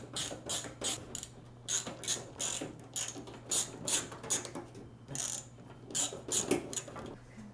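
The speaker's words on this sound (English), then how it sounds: "take out this hard drive cage that's in here by removing these 4" Screws are worked loose from a hard drive cage inside a gaming PC case, giving a run of close, rhythmic ratcheting and scraping bursts with no talking.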